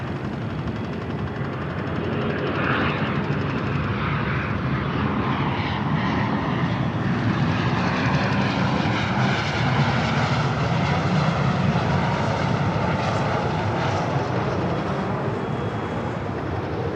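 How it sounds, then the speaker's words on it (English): A corporate jet arrives on the north side of LAX airport, its engine roar loud and continuous for the whole stretch with a broad rumbling wash and no talk. "looks like a corporate jet up next for arrival here on the north side."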